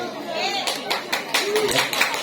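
Scattered audience clapping at a Halal Bihalal gathering of Delta Mandala residents, irregular claps building after a moment and mixing with ongoing talk and background chatter.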